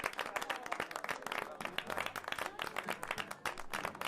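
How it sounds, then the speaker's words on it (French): A group of people applauds a young woman with steady, dense hand clapping that stays at an even, moderate loudness throughout. "On applaudit la demoiselle."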